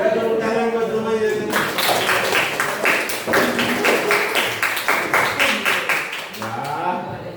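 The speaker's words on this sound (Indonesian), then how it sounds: "kita tepuk tangan buat semuanya" A classroom group of students claps together in a dense, loud burst of rapid, overlapping hand claps lasting several seconds, with voices talking before and after.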